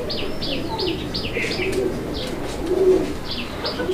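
Bombay pigeons coo repeatedly at close range at a pigeon farm, with soft rhythmic calls running throughout and a few brief chirps among them.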